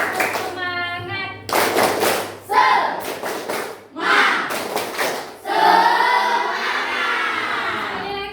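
A classroom group performs a tepuk semangat ice-breaker, bursts of rhythmic hand clapping trading off with loud chanted voices, close and lively.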